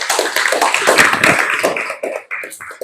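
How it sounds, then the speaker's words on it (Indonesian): A class of students in a school room claps for a group, a close, dense burst of applause that thins into a few scattered claps after about two seconds. "Ya, beri aplaus dulu."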